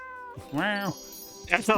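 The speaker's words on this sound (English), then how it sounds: "that cat." A cat meows twice, a drawn-out whining call followed moments later by a shorter one, close and fairly loud with a hint of background music.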